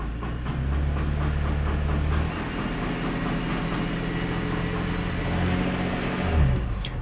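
A 2018–2025 Audi B9 S5 engine held on the brake in drive, revving up to about 2,000 RPM during an 8HP transmission service; a steady, loud engine drone holds throughout, with the pitch shifting near the end.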